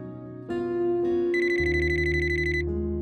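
Telephone ringing indoors in a home drama scene, an electronic ringtone with a repeating bright warbling pattern that swells and continues steadily for several seconds, fairly loud and alone without talk.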